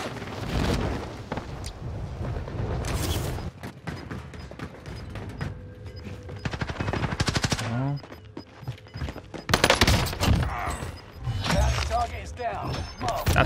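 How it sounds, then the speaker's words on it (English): Rapid bursts from the H4 Blixen SMG ring out in Call of Duty Warzone on Rebirth Island, fast chattering volleys recurring through the scene among other game sounds, with someone talking over much of it. "This one's the BLIXEN. This thing is one of the best guns in the game."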